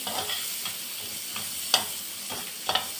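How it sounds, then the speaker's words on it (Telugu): Onions frying and sizzling in a pan for a paneer lababdar, a steady hiss broken by a few sharp stirring scrapes, close and alone. "ఈ ఆనియన్స్ వేసి కొద్దిసేపు వేగాక నెక్స్ట్ ప్రాసెస్ చూపెడతాను"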